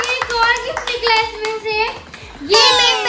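Hand clapping at a family birthday gathering, with sharp claps scattered among excited children's voices that talk loudly over them the whole time.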